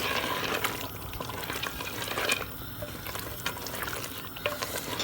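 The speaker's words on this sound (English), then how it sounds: "Guys, I've just put the kerela in that I had fried off before. I'm just putting them into the handy." Previously fried bitter gourd (kerela) tossed into a pot of simmering lamb curry, with a continuous close sizzle, stirring scrapes and occasional clinks throughout.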